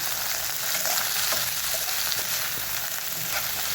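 Onions and chilies dropped into hot oil with browned garlic: a dense, continuous frying hiss that stays loud and even from start to finish, with faint stirring ticks underneath.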